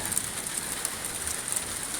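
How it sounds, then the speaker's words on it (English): Heavy rain pours during a thunderstorm in Belleville, Michigan, a dense, steady hiss of drops hitting surfaces nearby, with no thunder or voices. "It went that way and it's raining really hard now."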